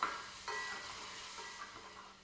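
Carrot cubes and tomato paste are stirred in a pot with spices, giving a soft sizzle and scraping stirs, faint and short with no talk.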